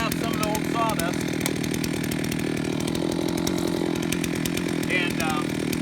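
A chainsaw on a chainsaw mill revs hard in one continuous, close, loud buzz to blow out old sawdust, holding a steady high engine note throughout.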